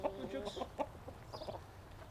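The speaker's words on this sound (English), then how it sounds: "we had quite a few hens and cockerels sort of running around the place" Hens clucking in short, irregular bursts, fairly faint, with some background noise around them.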